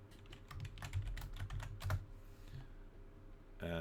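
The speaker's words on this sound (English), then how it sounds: "I got to type in Two and a Half Men now." Rapid typing on a computer keyboard, with quick close clicks for about two and a half seconds that then stop, followed by a brief clatter at the end.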